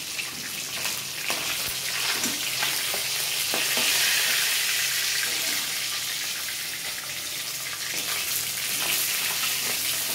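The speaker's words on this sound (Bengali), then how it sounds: "দেখো মাছগুলো ভেজে আমি তুলে নিচ্ছি, ভেটকি মাছ না, ভীষণ নরম।" Bhetki fish frying in a pan, a loud continuous oil sizzle and crackle with occasional scraping stirs, close up and with no talk over it.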